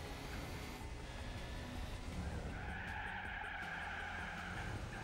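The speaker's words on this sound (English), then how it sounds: "bit of a drift" Tires squealing as a car drifts around a hairpin in the Gran Turismo 4 racing game, a drawn-out skidding screech over steady engine noise, fairly faint and with no talking.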